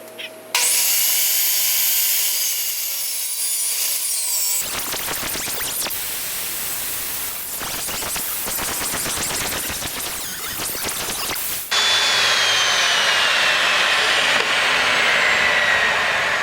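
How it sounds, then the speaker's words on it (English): A planer runs through cedar boards, giving a loud, steady broadband roar that shifts in texture as each board feeds through the cutterhead, with a brief quieter spell at the start and no talking. "We're using a planer to clean up the boards after running them through the table saw"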